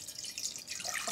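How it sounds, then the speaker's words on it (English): Apple juice pours into a pan while making a warm pear and cinnamon cocktail, a brief steady liquid trickle with light splashing, close and fairly quiet, no talking. "apple juice, pour it into the pan."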